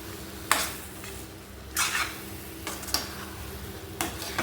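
A spoon stirs a tomato pickle mixture in a pan, with a soft, low sizzle under a few scraping strokes and light metal clinks spaced over a few seconds.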